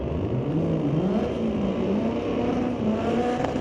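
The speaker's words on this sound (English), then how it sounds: "Dodge taking on that blue oval. Got us a drag race." Dodge Challenger and Ford Mustang drag racing down a strip at Mission Raceway Park, a loud continuous engine roar with rising pitch as the cars accelerate away.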